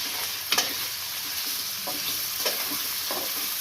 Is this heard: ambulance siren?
no